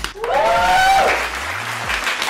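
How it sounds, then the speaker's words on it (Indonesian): Applause from a live audience at a beauty and hair tools showcase, a steady wash of clapping filling the short stretch, with a voice briefly audible over it early on. "Terus tepuk tangannya untuk Ona."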